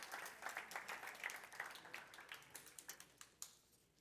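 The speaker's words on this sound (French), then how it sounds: "On peut l'applaudir?" Applause from a church youth gathering audience, a dense patter of clapping that thins into scattered, fading claps before going quiet.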